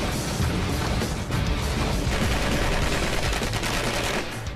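High-speed projectiles slam into a granite boulder in rapid succession, a dense, loud barrage of impacts and crashing bursts running throughout.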